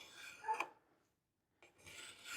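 A hand file scrapes a bevel on a Maine diamond eye, two short rasping strokes separated by a brief silence, close and fairly quiet.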